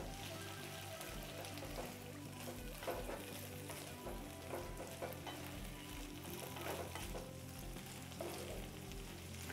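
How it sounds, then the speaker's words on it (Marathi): Steamed sweet corn sizzles and fries in hot butter in a pan, a steady close crackle with occasional stirring scrapes and no talking. "बटर गरम झालंय, त्यामध्ये आपण स्वीट कॉर्न घालून घेऊ"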